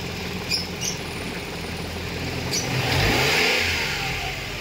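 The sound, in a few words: Mitsubishi Mirage engine revving to 2500 rpm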